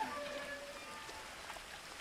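Steady rushing waterfall in the video game What Remains of Edith Finch, a soft broadband wash of falling water that holds even and continuous throughout, fairly faint and with no voices over it.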